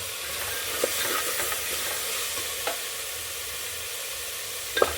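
Field beans (avarekalu) tossed into frying masala in a pan and stirred: a steady, close sizzle runs throughout, with a few faint scrapes and clicks from the spoon. No talk.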